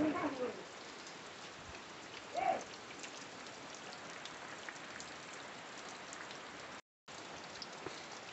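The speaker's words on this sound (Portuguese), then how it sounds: "Vou mostrar essa chuva linda a vocês" Steady rain falls on São João eve in Brazil, a constant hiss of drops on surfaces, fairly close and even, with a brief louder patter near the start and a momentary dropout late on.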